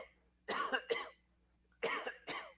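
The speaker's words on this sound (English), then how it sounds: "I am going to do a little cough off the air." Two pairs of short, sharp coughs sound close up, separated by a brief quiet pause.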